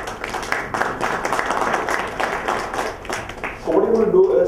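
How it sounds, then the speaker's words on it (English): Business summit audience applauds for four competing teams, a moderate, steady patter of clapping in a hall with voices mixed in, ending in louder chatter or a tonal sound near the finish. "we need to first give a big round of applause to the 4 teams"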